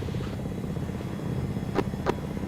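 A military helicopter in a combined-arms video game throbs with a steady rotor drone at moderate distance, joined by two brief sharp clicks near the end.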